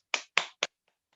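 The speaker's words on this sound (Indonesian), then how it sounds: "Tepuk tangan untuk Tasya." Three quick sharp hand claps in a primary-school classroom, evenly spaced and close, followed by a couple of faint taps, with no talking.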